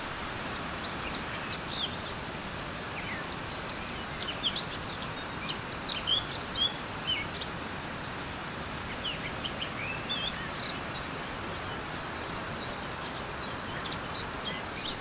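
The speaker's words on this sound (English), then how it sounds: "A joyful bird singing completes the beautiful landscape." Birds chirp and sing in a park with lakes, repeated bright calls rising over a steady, broad outdoor background hiss.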